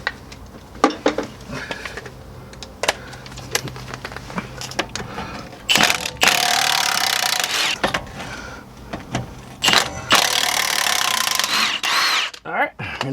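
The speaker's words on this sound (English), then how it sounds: "clean them up with a large wire brush" Large wire brush scrubbing corrosion off the front brake parts of a 2008-2012 Chevrolet Silverado 1500, heard as repeated harsh, loud bristly scraping bursts with short pauses between strokes, up close.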